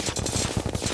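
Rapid gunfire from an enemy in Terraria, a dense burst of fast repeating shots close and loud, with no talk over it.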